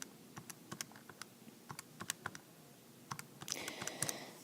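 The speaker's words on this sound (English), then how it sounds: "I can type that into this handy dandy calculator that I have going right here." Calculator keys being tapped while numbers are entered, a string of crisp, close clicks at an uneven pace that bunch into a quicker flurry near the end, with no voices.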